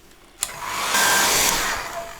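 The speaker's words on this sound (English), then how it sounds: "We're gonna dry it now with the dryer." Hair dryer blowing steadily on a wet watercolor painting of a full moon over mountains, a single close, continuous whoosh that starts abruptly with a click and holds loud to the end, no talking.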